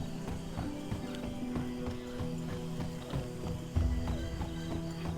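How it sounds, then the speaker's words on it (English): A horse's hooves clop in a steady, unhurried rhythm on a hollow-sounding wooden bridge, moderately close, over a faint background hum. "As she slowly rode across the wooden bridge, her horse's hooves clattered on it"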